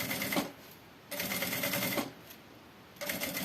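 A sewing machine stitches piping around a backpack panel in three separate bursts of rapid, whirring, close-up stitching, with short quiet pauses between them.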